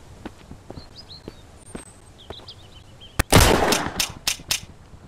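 Pistol fire aimed at a bear in the survival game Mist Survival: scattered footsteps first, then a sudden loud cluster of sharp shots, one crack followed by several more in quick, uneven succession, close and without talk.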